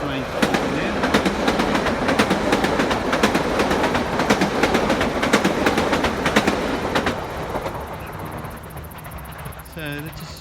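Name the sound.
train passing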